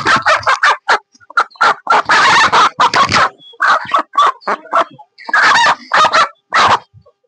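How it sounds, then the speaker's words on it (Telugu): Nallikutla country chickens cluck and call in a rapid, loud series of short bursts close by, with a few longer squawks mixed in. "ఇదేమో నల్లికుట్ల కోడి"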